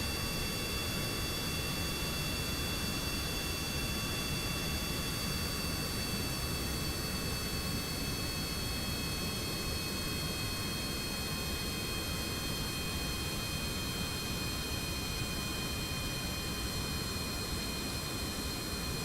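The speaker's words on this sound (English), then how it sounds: "Okay, so I'll turn this jet around." A jet engine drones steadily as an aircraft turns in Kerbal Space Program, a constant broad roar with high whining tones that stays at an even loudness throughout, with no voices over it.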